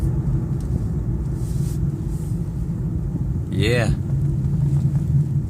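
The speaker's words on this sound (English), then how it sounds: "give y'all like a full straightaway shot of the acceleration" A 2015 Infiniti Q50 drives with a steady low engine and road rumble throughout, rising briefly with a quick rev as it accelerates, while a person says a word.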